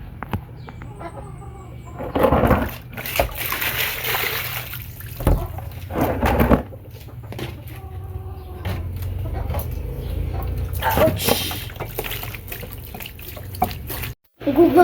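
Water poured over a chicken to loosen its feathers gives several bursts of splashing and pouring, close and fairly loud, with quieter handling noises between them.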